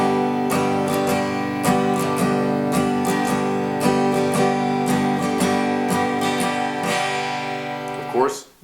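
Acoustic guitar strings picked with a medium pick, even strummed and picked notes ringing out close and clear, ending with a brief scrape as the playing stops.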